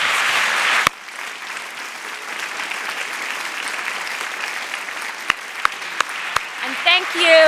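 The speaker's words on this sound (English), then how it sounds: "Can we just have one more round of applause for all of them?" A live audience at a literary event applauds authors and translators, a loud, dense round of clapping filling the room before it thins out into a few scattered claps and voices.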